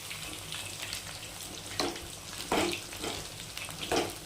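Chicken pakoda frying in hot oil, a steady soft sizzle broken by a few louder bursts of crackling as pieces are stirred.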